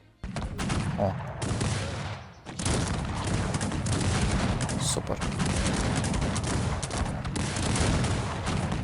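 Musket volleys in the strategy game Cossacks 3 crackle in dense, continuous rattling bursts from massed troops during a raid on a settlement, loud throughout with a brief lull, while someone speaks briefly over the firing.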